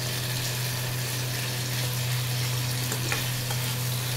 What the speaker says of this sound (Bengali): এবার কর্নফ্লাওয়ারটা দেওয়ার পরেই সঙ্গে সঙ্গে নাড়তে হবে, নাহলে লাম্প হয়ে যাবে